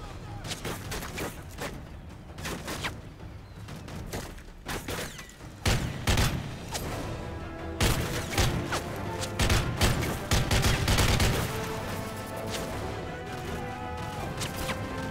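Sustained machine gun fire from the shooter game Modern Warfare 3 in Special Ops, dense rapid bursts with crashes and impacts building in intensity over the whole stretch.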